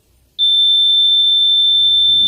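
A steady, piercing electronic alarm tone starts abruptly and holds unbroken at high volume, with a faint rumble underneath near the end.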